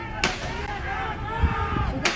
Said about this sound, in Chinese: 虽然从画面中没有办法确定枪声到底是从哪个方向传来